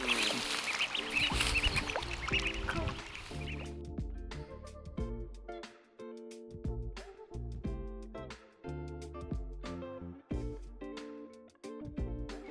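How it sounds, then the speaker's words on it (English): Ten eight-day-old Aigamo ducklings in a rice field, a bright loud jumble of peeping at first, then repeated short quacks and calls in uneven bursts, close by, with no talk. "So today we will introduce our new friends, 10 ducks"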